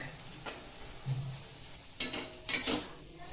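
Amla (Indian gooseberry) stirred in a pot with cloves, cardamom and nutmeg powder: a few quiet spoon scrapes and clinks, with two sharper strokes near the end and no talking.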